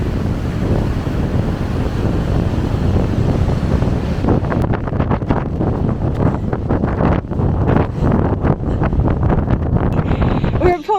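Gale-force wind blasts across an exposed hilltop by the lighthouse at Port Macquarie, buffeting the microphone in loud, continuous rumbling gusts that turn choppier and more broken in the second half.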